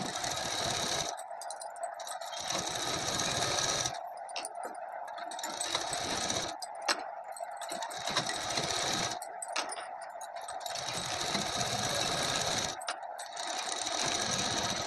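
A sewing machine sews a seam over folded suit fabric, running in a near-continuous rapid whir with several brief pauses, close and steady with no talk.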